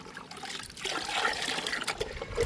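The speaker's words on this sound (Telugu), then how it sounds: "వాటర్లో బాగా కలవాలండి" Water being stirred as turmeric, chili powder and asafoetida are mixed in to make a homemade mealybug spray for the garden; a soft, steady swishing and trickling of liquid, close and fairly quiet, with no talk.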